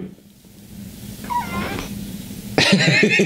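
A pet cat named Fluffy gives a short rising meow midway, then a louder, bright, drawn-out yowl near the end over a low background hum.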